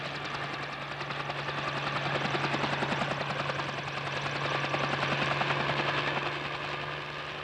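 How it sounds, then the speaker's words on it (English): A helicopter dropping tree seeds over harvested land thrums steadily overhead, its rapid rotor chop loud and continuous, swelling slightly as it passes. "So the seeds are dropped from the helicopter onto the ground."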